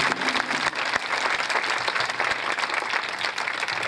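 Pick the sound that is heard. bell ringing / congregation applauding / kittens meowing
congregation applauding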